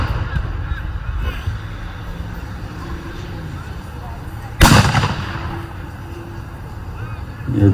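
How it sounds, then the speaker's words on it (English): A single loud cannon blast booms out during a Civil War reenactment artillery bombardment, set against steady outdoor crowd noise and wind. "They're trying to bombard the Confederate position, break open, do as much damage to the Confederate position with artillery."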